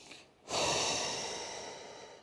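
Slow breathing during a hamstring stretch: after a short quiet pause, one long, soft exhalation rises and then slowly fades, close and breathy, with no talking.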